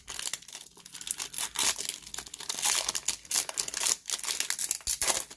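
Foil soccer card packs, Italian-language classic issues, being torn and crinkled open up close in repeated bursts of sharp crackling and ripping, with no voices.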